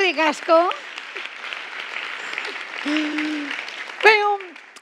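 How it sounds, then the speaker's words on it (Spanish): Audience applause at a talk fills the middle of the moment as a steady patter of clapping, with a speaker's voice heard just before and just after. "Un, aplauso aquí para la gente de la pecera."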